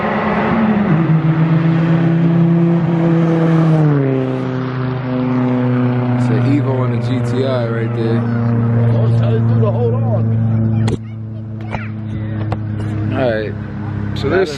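A Volkswagen GTI and a Mitsubishi Lancer driving by at a night car meet, loud engine drones rising and sweeping past with shifting pitch, under excited talk and crowd chatter.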